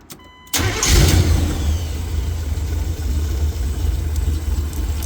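An A-Team van engine, recently reassembled after flooding and with a leaking fuel filter, cranks briefly and then catches and runs. It is loud and close, settling into a steady rumble with no talk.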